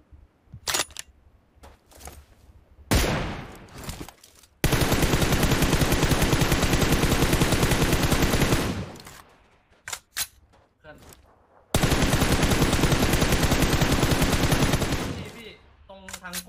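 Gunfire in PUBG Mobile rattles out in long, dense automatic bursts, loud and sustained for several seconds at a time, with a few scattered single shots and voices talking in the quieter gaps.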